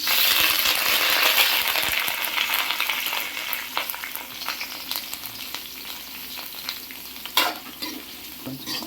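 Chopped onions and curry leaves dropped into hot oil for a sweet corn kurma, loud close sizzling and crackling that settles into a steady fry, with spoon stirring clinks and scrapes throughout.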